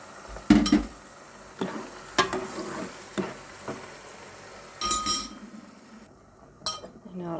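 A spoon scrapes and clinks against a cooking pot as dissolved Maggi stock is stirred for a fish and yellow rice dish, with sharp metallic taps spaced irregularly over a quiet kitchen background.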